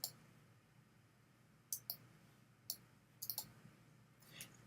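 A computer mouse clicks several times at a quiet desk, with sharp single and double clicks spaced irregularly over a faint steady hum, no talking.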